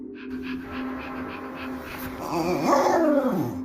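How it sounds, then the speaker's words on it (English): A dog close by pants and lets out whining, yelping cries that rise in pitch toward the end, over a steady low hum. "Barking."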